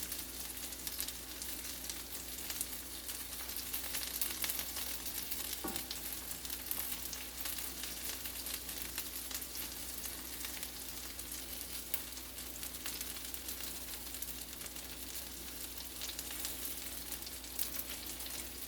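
Meatballs frying in a hot pan on the hottest part of the stove, an even, dense sizzle that holds steady throughout with faint crackles and no talking.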